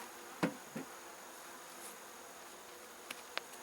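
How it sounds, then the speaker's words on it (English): Honey bees around an opened hive during an early October inspection of winter stores, a faint background hum with a few sharp close buzzes as individual bees fly past the microphone. "there's going to be a lot of bees in these hives that might not appreciate getting broken into"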